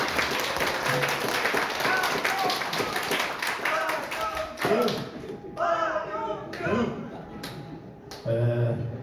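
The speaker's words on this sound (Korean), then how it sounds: "다 같이 힘찬 박수로 다시 한번 보내주세요." Audience applause at a National Assembly academic forum, dense clapping for the first few seconds that thins out as a voice speaks over the crowd.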